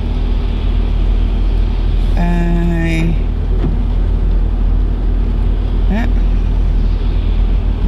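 A steady low engine rumble fills the scene from inside a car stuck in traffic during driving rain, with a brief tonal hum and a short squeak rising above it.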